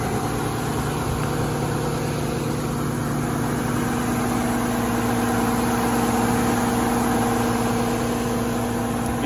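A 1990 Nissan 300ZX Z32 engine idling just after startup on a dirt road, a steady, even mechanical hum with a constant tone, close and unchanging throughout with no talk.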